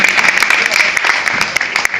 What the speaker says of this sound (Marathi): जोरदार टाळ्या वाजल्या पाहिजे